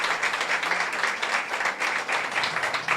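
A church congregation claps hard and steadily during a worship service, a dense, continuous wash of applause filling the room with no voice on top.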